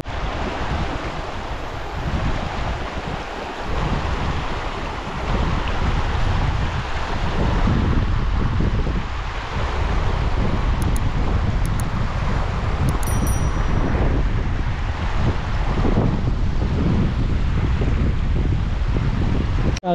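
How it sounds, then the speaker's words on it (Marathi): A river flows in a rural hometown setting, its water rushing continuously and loudly while wind buffets the microphone throughout. "आपण इकडे आलोय नदीवर"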